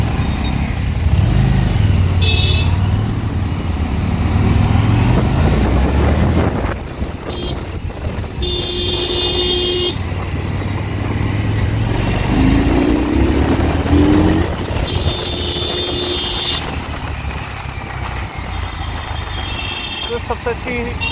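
A Harley Davidson Street Rod 750 motorcycle ridden on an open road, its engine droning steadily under heavy wind buffeting on the microphone, with the pitch shifting as it changes speed and passing traffic blending into the rumble.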